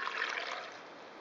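Water, 200 millilitres, is poured into a blender jar holding nettles, a brief soft trickling splash that fades out within about a second, faint and alone.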